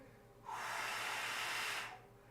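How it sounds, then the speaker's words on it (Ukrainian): A single long exhale during a stretching exercise, a close breathy hiss that swells, holds for about a second and a half and fades, with no talk. "Ми робимо видих."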